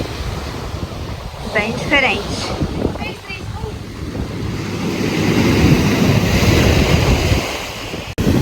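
Surf breaking on the beach at Arraial d'Ajuda, Bahia, a steady wash of waves with wind buffeting the microphone, while people talk over it in the first half before the surf rises alone.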